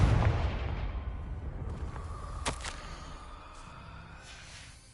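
A Confringo fire spell in Hogwarts Legacy bursts with a loud low blast that rumbles and fades over several seconds, with a sharp crackle partway through and a brief pop at the very end.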